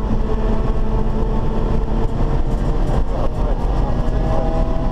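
Race car engine droning hard on track through a corner on a lap, a loud, dense, steady roar heard from inside the car with no clear talk over it.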